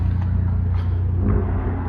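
A BMW car engine rumbles low and steady nearby, idling and pulling off without a sharp rev at an outdoor car meet.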